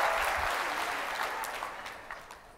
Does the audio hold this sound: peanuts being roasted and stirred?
no